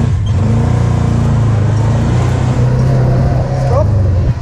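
A safari car pulls away across the Dubai desert, its engine droning loud and close with a rising revving pitch as it accelerates, and voices are heard over the motor.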